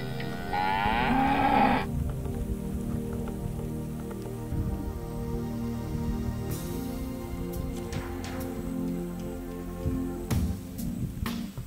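A cow moos loudly and close by for about two seconds in light rain, followed by soft patter of raindrops and quiet outdoor ambience.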